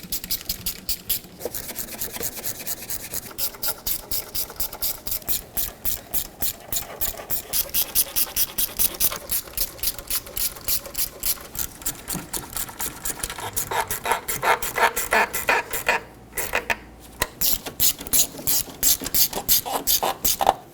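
Water pump bolts on a 1997-2006 Jeep Wrangler 2.4L are snugged down by hand, giving a close, steady run of repeated rasping, ratchet-like strokes with brief pauses and no talking.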